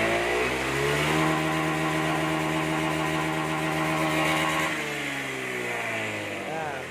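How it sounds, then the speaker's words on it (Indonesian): A motorcycle engine with a faulty TPS throttle sensor runs steadily and loud, held at a gentle low rev with a brief rise, then eases back around the end. "kita hidupkan mesinnya, kita buktikan. Ini gas awal ya, kita gas perlahan."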